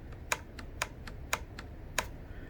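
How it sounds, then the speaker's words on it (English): A TC Compass 30-06 rifle trigger clicking while on safety, five or six sharp, crisp metallic clicks at irregular intervals, close and quiet over a low background hiss. "Now you hear it clicking, but it's not triggering."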